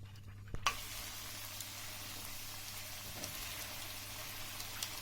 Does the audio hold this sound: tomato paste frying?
yes